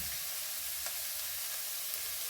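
Sliced onions sauté with salt in a pan, a faint, steady low sizzle that continues evenly throughout with a couple of light stirring ticks, no voices.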